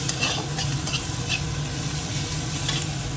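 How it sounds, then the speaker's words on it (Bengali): Onion and tomato fry in a pan with a constant bubbling sizzle and light stirring clicks throughout, close and steady. "পেঁয়াজের টমেটোটাও প্রায় ভাজা হয়ে"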